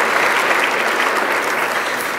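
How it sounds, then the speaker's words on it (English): Audience at a Hall of Fame awards ceremony giving a round of applause for the honorees, dense, loud, continuous clapping throughout. "give them a round of applause"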